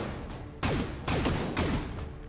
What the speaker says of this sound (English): Full auto rocket launcher.